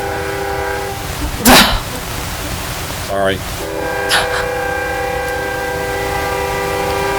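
A train passes at a distance, its steady rumble running throughout with brief horn-like tones, and a voice speaks briefly over it.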